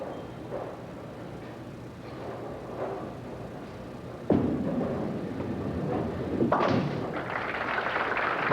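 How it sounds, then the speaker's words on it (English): At a professional senior bowling tournament, a ball rolls down the lane and strikes pins for a spare, giving a sudden clattering crash followed by a second impact and the murmur of an indoor crowd. "Coco reaches into the bag for perhaps another answer, although he will shoot the spare with this ball."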